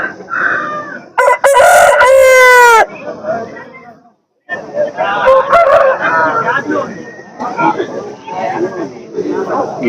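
A rooster crows loudly and close by at a busy hen market, with one long crow followed by clucking fowl and livestock sounds, while people talk over it.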